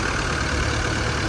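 Steady low rumble of a Force Traveller van's Mercedes-Benz engine running, a continuous even drone with no revving, close and moderately loud.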